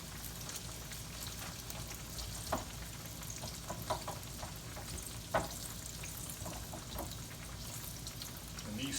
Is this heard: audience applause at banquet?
no